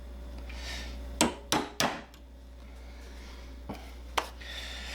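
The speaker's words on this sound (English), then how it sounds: "And then we're gonna take a pin and a punch." A punch is struck to drive a pin during assembly of a .308 AR pistol, giving three sharp metallic taps in quick succession, then two lighter isolated taps after a pause, close by in a quiet room.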